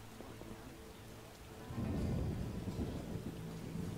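Steady rainfall with a low rolling rumble of thunder swelling midway in The Witcher video game, faint and continuous with no talking.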